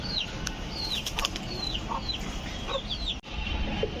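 A caught pigeon beats its wings in short bursts of flapping amid frequent chirping and calls from nearby birds over a constant background hum.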